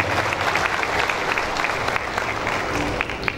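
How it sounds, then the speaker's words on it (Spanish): A crowd at the official inauguration of the Agroshow Copronar 2024 agricultural fair applauds loudly and continuously, a dense, steady wash of clapping throughout. "El aplauso de los presentes. Fuerte el aplauso."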